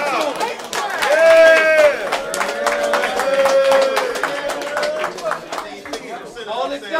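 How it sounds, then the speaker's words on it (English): Rap battle crowd clapping and cheering for the battler Tunez, a dense mix of claps, shouts and chatter, with a sustained sung or shouted tone riding over the noise, loud and lively throughout. "Clap it up for Tunez."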